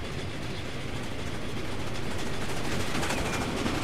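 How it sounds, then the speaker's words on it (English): A freight train rolls past in the Transport Fever railway simulation game, a steady, dense rumble and clatter that holds at an even loud level throughout with no voices. "Another freight train approaching."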